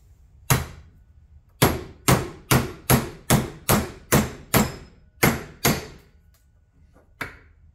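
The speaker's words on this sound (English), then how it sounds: "I'll use one of the old bearings. And tap it in." A hammer taps an old bearing against a new wheel bearing, driving it into a Polaris Outlaw 500 ATV front wheel: about ten sharp, ringing metallic taps, close and loud, with brief pauses between blows.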